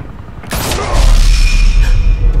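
A gunshot rings out in Batman: The Telltale Series, a sharp loud broadband crack near the half-second mark followed by a rumbling low-end tail and lingering ambience; no voices.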